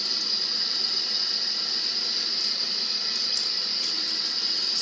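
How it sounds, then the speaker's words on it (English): Tap water runs steadily into a sink for a few seconds, a constant even hiss with no break and no voices. "Turn on the water."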